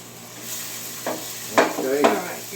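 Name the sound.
stirring bay leaves in a hot pot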